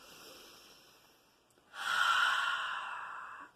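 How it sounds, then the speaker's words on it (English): A single slow, deep breath in, drawn close to the microphone after a quiet moment, a soft, steady rush of air that holds for nearly two seconds before the clip ends. "Deep breath in."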